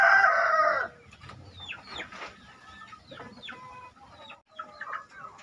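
Pamacek chickens, a rooster and a hen being paired for crossbreeding with a young blorok hen, give a loud crow at the start, then a series of softer clucks and calls continue close by with no talk.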